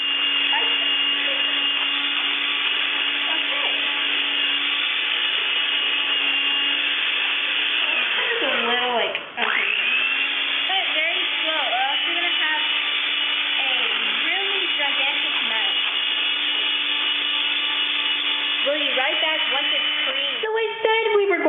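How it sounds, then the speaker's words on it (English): An electric mixer runs steadily, beating eggs and vanilla into red velvet cupcake batter. The motor drone is loud and constant and dips briefly when it slows or shifts, with no voices over it. "Add eggs 1 at a time and 1 teaspoon of best vanilla, and beat on medium-high speed until light and fluffy"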